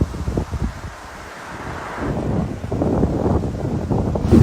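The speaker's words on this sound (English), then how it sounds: "Proper windy this morning" Strong wind buffets the microphone in low rumbling gusts during a bicycle ride on a desert road in China, quieter at first and then building into a sustained, heavy roar.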